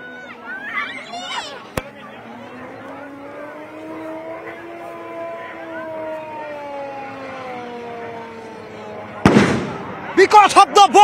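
Civil defence mock drill at Kahilipara with the 10th police battalion: a war siren wails steadily, a sharp crack cuts in early, then a loud blast near the end is followed by a rapid string of bangs.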